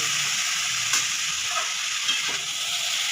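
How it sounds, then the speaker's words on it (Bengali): Cabbage curry stirred and fried with spices in a pan, a steady close sizzle with scraping stir strokes running throughout, loud and alone with no talk. "এবার আমি পুরো বাঁধাকপিটা দিয়ে দিয়েছি এবার ভালো করে মশলার সাথে মিশিয়ে নেব"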